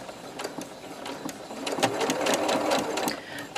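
Sewing machine starting a quarter-inch quilting seam with its automatic locking stitch, a brief close mechanical whir that speeds into steady rapid stitching.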